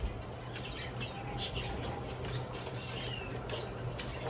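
Pet birds released back into an outdoor aviary, several wingbeat flurries and light chirps over a steady insect and outdoor background hum, no talking.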